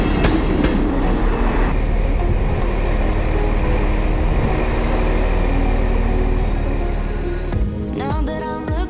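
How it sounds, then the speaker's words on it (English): A Talyllyn Railway train rolls along in Wales, a loud, steady rumble with rhythmic clickety-clack of wheels on track, easing off near the end into lighter rattling and squeals. "we're just about to get on a train"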